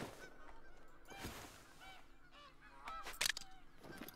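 Canada geese honk repeatedly in the Call of the Wild hunting video game, a cluster of calls at moderate distance with no talking.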